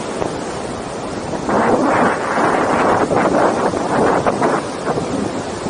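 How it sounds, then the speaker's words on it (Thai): Cool wind buffets the microphone during a boat ride on a reservoir, a steady loud whooshing roar with gusty swells in the middle, mixed with water and engine rumble. "ลมเย็นสบายอู้"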